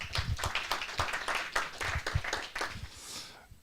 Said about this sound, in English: please another round of applause for Martti.